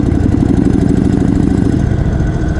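A 2021 Indian Chief Dark Horse cruiser's big engine lugging at low revs, around 1200 rpm in fifth gear, a loud, close, deep rhythmic thrum that stays steady throughout with no voices.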